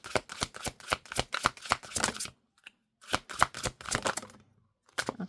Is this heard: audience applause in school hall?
no